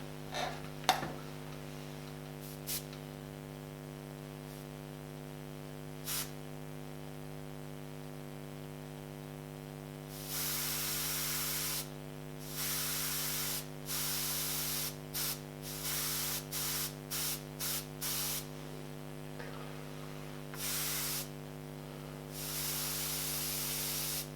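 An airbrush sprays paint in short hissing bursts of varying length while a pet portrait background is laid in, over a constant low mains hum, with a few faint clicks early on and no talking.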